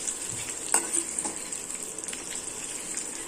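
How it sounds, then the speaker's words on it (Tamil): Masala for egg curry fries on a low flame with a soft, steady hiss and a few scraping stirs, close and fairly quiet, with no voices. "லோ ஃப்ளேமில் வச்சு ஃப்ரை பண்ணுங்கள்,"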